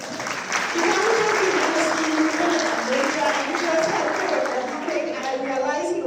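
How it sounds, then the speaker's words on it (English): Sustained audience applause at a social workers symposium, a full and even wash of clapping throughout, with a faint voice and whoops audible underneath. "This young man, give him a round of applause."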